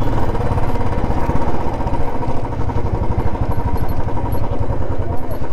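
Motorcycle ride near Jaigarh Fort on a road toward Jal Mahal, the engine running steadily and close with a throbbing, rattly drone throughout, no pauses.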